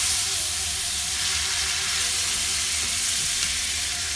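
Green bean casserole ingredients sizzle and bubble in a pan at steady close range, a dense even frying hiss lasting throughout with no talk.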